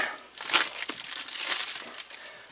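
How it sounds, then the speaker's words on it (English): A knife slicing through crinkly cellophane wrap on a Jaybird Tarah Pro earbuds box, with continuous crackling and crumpling that swells and fades, close and clear, and nobody talking. "So, take trusty knife, cut the cellophane."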